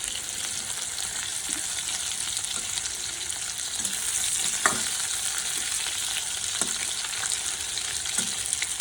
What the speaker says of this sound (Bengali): তারপর আমি আবার পটল ভাজা বসিয়ে দিয়েছি